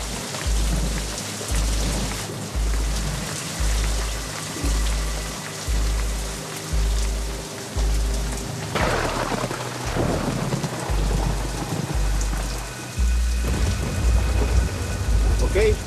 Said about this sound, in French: la petite pluie va se transformer en averse diluvienne